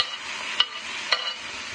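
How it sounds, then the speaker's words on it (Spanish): Chopped tomato goes into sautéing onion and chili, setting off a steady, close sizzle with two brief louder bursts of hiss. "2 minutos que ya esté acitronada, agregamos el tomate."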